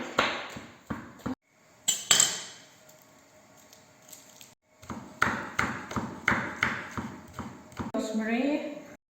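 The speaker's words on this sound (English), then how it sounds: "Mincing garlic" A knife mincing garlic for lemon pasta, a run of crisp rhythmic chops on a board in quick repeated strokes, broken by a pause and followed by a steadier series of taps near the end.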